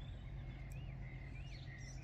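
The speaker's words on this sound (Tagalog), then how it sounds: "Makinig na lang tayo sa kunin ng ibon." Birds chirp and whistle in the early morning, thin rising and falling calls scattered over a steady low hum of background noise, faint and somewhat distant.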